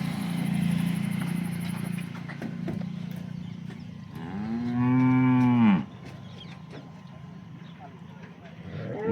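A local Banaskantha cow lets out one loud, drawn-out moo in the middle of a farmyard scene, set against a steady background hum with a few faint knocks.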